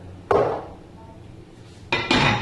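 Whole peeled tomatoes from a can tipped into a pot of lentils, giving two or three clattering metallic knocks and splats separated by a quiet pause, close and fairly loud.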